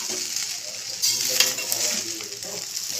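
Egg stirred into fried rice in a pan cooked with little ghee: a steady frying hiss with a brief burst of louder spatula scraping and stirring partway through, close by, with no talking.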